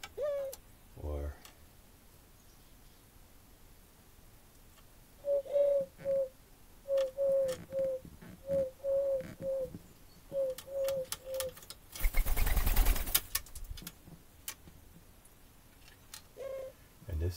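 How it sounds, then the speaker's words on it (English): Male Eurasian collared doves coo outdoors in the morning in a steady series of low, repeated phrases, fairly close. Someone talks quietly around them, and a brief loud rumble of wind or handling noise breaks in near the end. "Good morning, Eurasian ringing doves."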